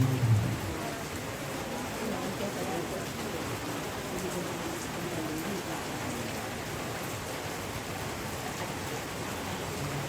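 Steady rain falls without pause, a dense even hiss of drops that stays constant throughout, with a slightly louder rumble at the very start and faint voices underneath.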